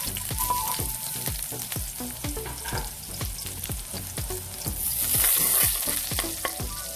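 Garlic frying in a pan for pork steak: a constant hot sizzle with rhythmic spatula scrapes and taps repeating through, loud and close, no talking.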